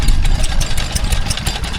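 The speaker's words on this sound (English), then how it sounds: "That's a 1948 Wolseley W06 or 8 stationary engine powering a kibble mill." A 1948 Wolseley WD8 stationary engine drives a kibble mill at a spring fair, running loud and close with a steady, rapid chugging beat and a rough mechanical clatter throughout.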